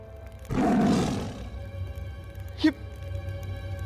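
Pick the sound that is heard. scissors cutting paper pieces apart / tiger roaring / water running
tiger roaring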